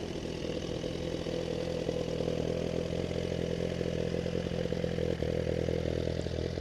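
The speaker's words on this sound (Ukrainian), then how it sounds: "Запустимо двигун, послухаємо, як працює." A 2018 Suzuki GSX-R 1000RR sport motorcycle engine with 26,649 km idles steadily close by, a continuous rough rumble with faint mechanical clatter and no voices.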